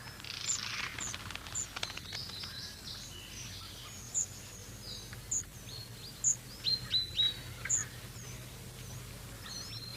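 Pied flycatcher in a garden giving short, high, thin call notes, several spaced chirps growing clearer toward the end over a quiet, faintly rustling background.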